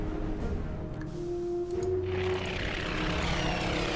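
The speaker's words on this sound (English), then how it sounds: "and then we have some bombers" Propeller-driven bomber aircraft in the strategy game Order of Battle, a droning engine hum with a rising tone and a louder whooshing swell partway through, heard alone.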